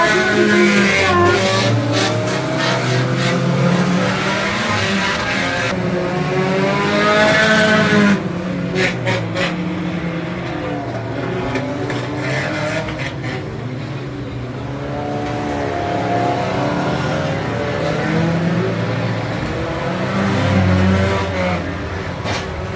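Race cars roar around Hunmanby Raceway, a stock-car oval hosting ramp races and demolition derby, with loud continuous engine revving, cars passing close and intermittent tire squeal throughout.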